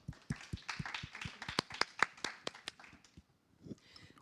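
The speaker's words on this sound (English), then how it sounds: "So big applause for our panelists, please." Audience at a blockchain industry conference panel clapping to welcome the panelists, a brisk burst of separate hand claps from a modest crowd, fairly close and moderately loud, thinning out and fading near the end.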